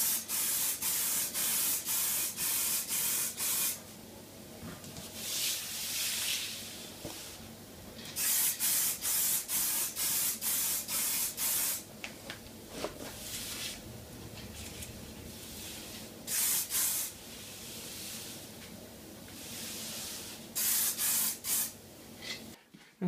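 Clear coat sprays from an aerosol can onto the top of a fingerboard deck in repeated hissing bursts, each a few seconds long, with short quiet gaps and light rubbing sounds between them, close and alone.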